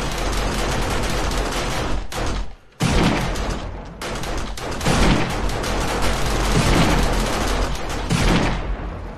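Rapid gunfire rattles in 7 Days to Die, dense loud bursts of shots with a short pause near the start, booming and continuous afterward with no talk.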